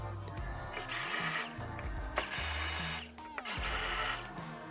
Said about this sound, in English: Go ahead and use a 1/4-inch drill bit to start the holes where you're gonna through bolt the backing plate to the rail.